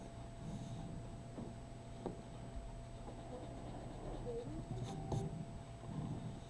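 A pencil sketches tree branches on paper in faint, soft scratching strokes with short pauses, close and quiet, with no voices.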